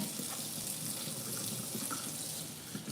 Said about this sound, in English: clean my sink out so I can clean my vegetables